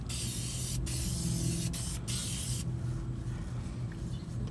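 Aerosol spray paint hissing in steady bursts onto the undercarriage chassis of a 1974 Chevrolet C10 truck outdoors, close and loud, with brief pauses between sprays before it stops near the end.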